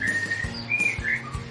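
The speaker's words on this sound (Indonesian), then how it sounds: "Terapi burung murai" A magpie-robin, or shama, songbird sings a few short clear whistled notes, fairly close and moderately loud, with light background noise and no talking.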